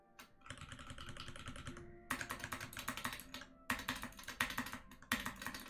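Fingers type on a computer keyboard nearby, quick clattering bursts of keystrokes separated by brief pauses, quiet and without speech.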